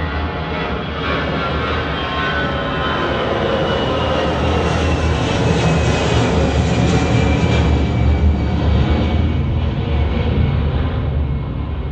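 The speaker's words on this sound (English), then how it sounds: "reproducing the exact position of an airplane as it passes by, from taking off to flying directly overhead and finally disappearing above and behind you" Airplane taking off and flying directly overhead in an Auro-3D home theatre demo, a loud, continuous broadband engine roar that swells and holds steady throughout before easing at the end.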